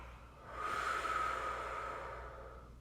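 A single long, steady exhalation through the nose or mouth during a prenatal yoga session, close and soft, swelling in and then slowly fading over a couple of seconds.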